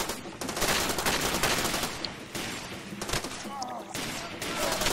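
Gunfire in Far Cry 2, a dense run of loud cracking shots and bursts in quick irregular succession, fairly close and continuous for several seconds.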